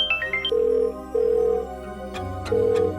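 A phone rings with an incoming call: a quick rising chime run, then repeated steady electronic ring tones in a quiet room, near and clear with no talking.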